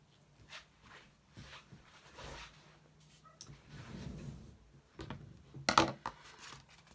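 A dog whimpers and pants in short, soft bursts spaced across several seconds, with a few louder scuffs and a sharp knock near the end in an otherwise quiet indoor room.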